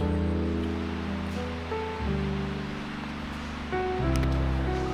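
Minoh Falls, a waterfall in a park in Osaka, Japan, pours as a steady broadband rush, continuous and fairly loud, with a low tonal hum running underneath.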